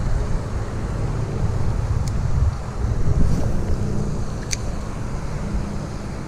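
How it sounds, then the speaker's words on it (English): Strong wind buffeting a microphone beside a bass fishing pond, a constant loud low rumble and roar with no pauses. "The wind is just absolutely ripping though."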